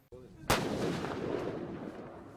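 A single sharp, booming shot from a T-64 tank gun fired at a target tank during crew training, very loud and close, followed by a long rolling decay of rumble.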